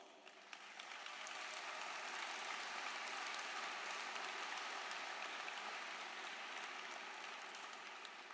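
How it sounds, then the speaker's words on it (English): Graduates at a high school graduation applauding, a few scattered claps swelling within a second into a broad, continuous roar of clapping from a large crowd, heard at some distance in a big hall. "express your appreciation for these people through your applause"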